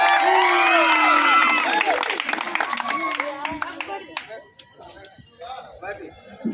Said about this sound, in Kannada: ಮತ್ತೊಮ್ಮೆ ಜೋರಾದ ಚಪ್ಪಾಳೆಯೊಂದಿಗೆ ಎಲ್ಲಾ ಕ್ರೀಡಾಪಟುಗಳಿಗೆ ನಾವು ಈ ಮೂಲಕ ಅಭಿನಂದಿಸ್ತಾ ಇದ್ದೇವೆ